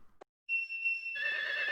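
A horse whinnies in a farming video game, a clear high neigh that starts abruptly after a brief click and runs on for over a second with no talk over it.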